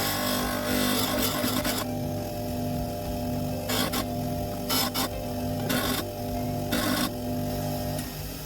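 An old chisel is ground on a grindstone: a steady close rasp over a low motor hum, broken by several short, louder bursts of grinding as the tip is pressed to the stone.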